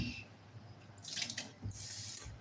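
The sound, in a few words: water being added to beans in a blender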